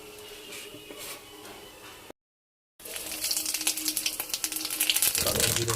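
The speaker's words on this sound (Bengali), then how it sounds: "কালো জিরে ফোড়ন দেবো।" Nigella seeds (kalo jire) sizzling in hot mustard oil in a home kitchen: a steady frying hiss breaks off briefly, then comes back louder and crackling more densely, close up.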